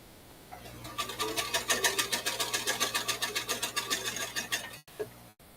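Sewing machine stitching fabric for a quilt piece, a close run of rapid rhythmic mechanical thumps lasting about four seconds before stopping with a couple of clicks.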